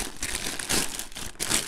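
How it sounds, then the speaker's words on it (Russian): A soft plastic parcel mailer bag being opened up close, with steady crinkling and crumpling and louder bursts of rustle, no voices. "Аккуратно открываем такие мягкие пакеты."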